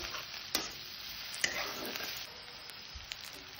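Garlic and ginger paste sautéing in a pan for a dhaba-style tadka, a soft continuous sizzle with a couple of sharper scraping stir strokes, close and fairly quiet, no talking.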